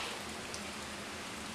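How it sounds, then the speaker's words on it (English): Rain falls outdoors as a faint, steady, even patter with no breaks and no talk over it. "And I'm gonna cut. Okay, and it started raining."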